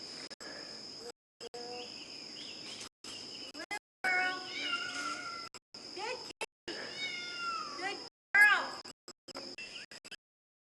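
A cat stuck up a tree meows repeatedly in drawn-out, wavering cries over a steady high chirring of insects, with choppy gaps and a little talking in between.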